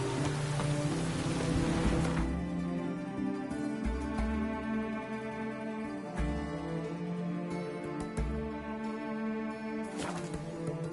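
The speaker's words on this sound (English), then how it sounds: "Witches have conjured rain again." Steady rain falls in The Witcher 3: Wild Hunt game world, a continuous hiss of drops with a tonal music bed underneath, with no talking.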